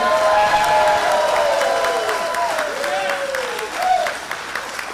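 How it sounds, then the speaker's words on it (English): Crowd applause and cheering for a chef at a STOL series championship awards event in Sulphur Springs, sustained clapping with whoops and shouted voices mixed in throughout. "round of applause for Chef Andrew"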